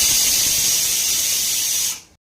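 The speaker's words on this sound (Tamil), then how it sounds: "2 விசில் விட்டு எடுத்துக்கலாம்." A pressure cooker holding halved beetroot in half a cup of water lets out a loud, steady jet of hissing steam with a shrill whistle tone for about two seconds, then cuts off abruptly into near silence.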